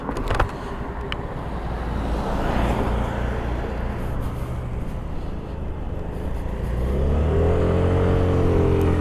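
A Hero Duet LX scooter engine climbs a gentle uphill slope under throttle, a steady close droning hum with road noise that rises in pitch near the end as revs build, no talk over it.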